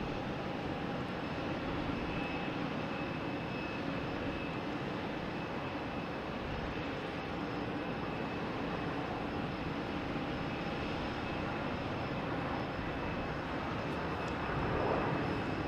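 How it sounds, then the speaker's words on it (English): A Delta Airbus A321neo from Denver comes in to land at Boston Logan, its broad, steady jet roar holding loud and unbroken throughout. "There's a Delta coming in from Denver, an A321neo."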